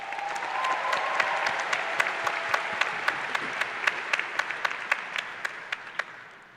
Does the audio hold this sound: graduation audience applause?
yes